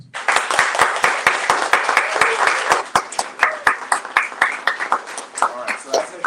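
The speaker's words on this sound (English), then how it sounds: "Could we give one more big round of applause for it?" Audience applause for two poets at a poetry reading, a dense burst of clapping that holds steady and then thins into scattered, separate claps as it fades.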